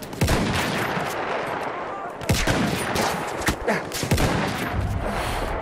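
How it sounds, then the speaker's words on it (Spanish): Battlefield 1 multiplayer combat rattles with loud gunfire, dense bursts and single sharp shots overlapping in rapid, irregular volleys, some close and some more distant. "Están disparando por este lado"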